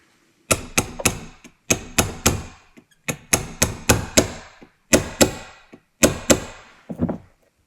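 Sharp metallic hammer strikes in quick clusters of two to four, close and loud, with brief pauses between groups as pins are driven into a Hi-Capa airsoft adapter.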